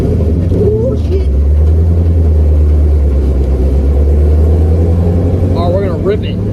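A Ford Mustang being built into a vintage-inspired race car rumbles loudly and steadily close by, its deep engine note holding throughout while people talk over it.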